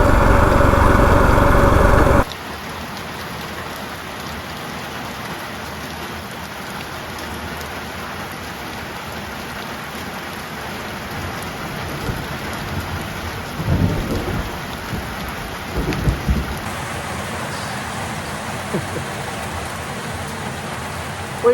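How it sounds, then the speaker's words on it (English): Heavy rain pours down steadily on an outdoor walk near a campsite, a dense continuous hiss with a couple of soft rumbles of thunder in the second half, after a brief louder burst at the start. "Wee bit of a downpour."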